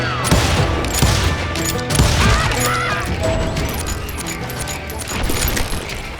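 Dense gunfire from the Western shooter game Call of Juarez: Gunslinger, rapid overlapping shots and booms in a loud continuous barrage with metallic clicks, no voices.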